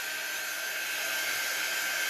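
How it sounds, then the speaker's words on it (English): An air dryer blows steadily to dry chalk paste on a Chalk Couture craft transfer, a constant close hiss-and-whir with a faint tonal whine, unbroken and loud. "we're speeding up that process using our air dryer"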